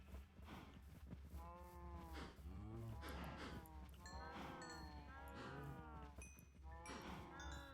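Minecraft cows moo repeatedly in a survival world, several long bellowing calls overlapping at close range with a steady game-ambience hum underneath and no speech.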